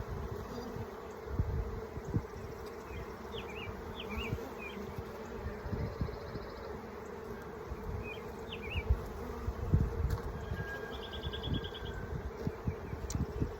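Honeybees hum in a steady, close swarm around an open beehive frame on a warm spring day, with a few faint higher insect buzzes drifting over the continuous drone.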